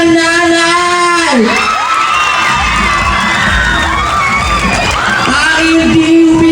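A pageant crowd at a Queen of Queens 2025 national costume showing roars and shouts with excited cheering and whoops, loud and close, over sustained tonal voices or music.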